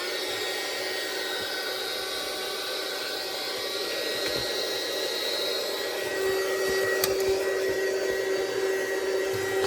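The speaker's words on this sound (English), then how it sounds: "I'm going to heat this up with my little embossing gun" A small embossing heat gun blows hot air in a continuous, steady whooshing hum with a faint whine, close by, and a thin tone rises near the end.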